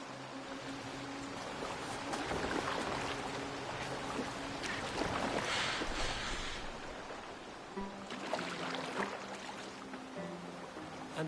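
Boat gliding across open water in Assassin's Creed Valhalla, a steady wash of water and hull noise with a low ambient hum, continuous and moderately loud throughout, without speech.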